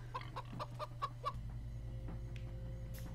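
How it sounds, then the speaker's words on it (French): Chickens in the video game Minecraft Story Mode cluck in a quick rhythmic run of six or so short calls, then fall quiet over a low steady background hum. "Ils font pas ce bruit là dans le vrai jeu, les poulets"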